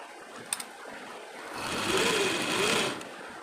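A sewing machine stitches joined blouse pieces, a steady motor whir that swells louder for about a second before easing off, with a couple of sharp clicks near the start.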